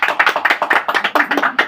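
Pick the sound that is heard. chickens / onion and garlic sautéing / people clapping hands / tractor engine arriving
people clapping hands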